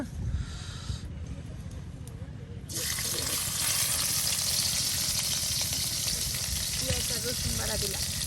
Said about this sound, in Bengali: এখন আপনার বাটা মশলাগুলো এই যে দিয়ে দিয়ে দেওয়া হচ্ছে